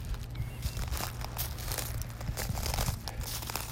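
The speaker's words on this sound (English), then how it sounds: "Listen to them crunching under my feet." Bare feet crunch over thick piles of seashells on a beach in North Naples, Florida. The crackling and crinkling continues steadily with each step, close and fairly loud, over a low wind or surf rumble.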